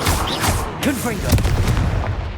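Confringo fire spell blasts from Hogwarts Legacy boom in a quick, loud, close series, with a voice briefly audible among the bursts.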